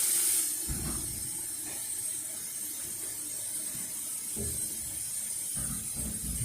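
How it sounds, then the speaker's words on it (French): Water heating in a pot on a stove for boiling two eggs, a steady soft hiss with faint intermittent clicks and low knocks from handling. "Bon, je fais bouillir mon eau."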